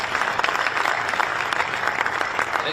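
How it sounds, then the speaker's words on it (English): A crowd at a press event for the NCAA men's Final Four at Ford Field in Detroit gives a sustained round of applause, dense and steady, with no speech standing out. "Give you a round of applause."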